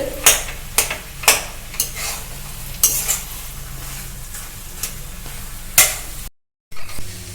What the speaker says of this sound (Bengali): তেলেতে আলুটা দিয়ে আমি তেলের সঙ্গে আলুটা কিন্তু কষে নিচ্ছি সুন্দর করে